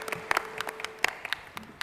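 Scattered, sparse applause from an audience after a talk at an ophthalmology conference, irregular individual claps at moderate distance, fairly faint and thin.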